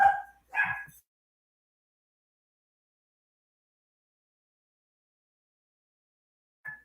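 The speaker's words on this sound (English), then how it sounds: "Sorry, the dog started barking." A dog indoors gives two sharp barks in quick succession, then falls silent before one short faint bark follows several seconds later; no talking.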